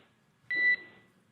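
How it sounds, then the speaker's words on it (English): A single short electronic beep sounds from an alarm aboard a SpaceX Dragon capsule during ocean recovery, a clear steady tone lasting about a quarter second over quiet background. "There is a chance that we get a lot of alarms."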